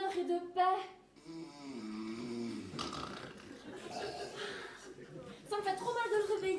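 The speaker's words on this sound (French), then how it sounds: "Entendez ce doux ronflement de bonheur et de paix." A sleeping cartoon dog snores in slow, rumbling cycles with nasal wheezes, fairly close and steady, mixed with background music and other voiced effects.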